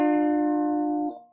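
Guitar rings out a held note from a song's intro, one clear sustained tone, close and alone, that fades and is damped after about a second.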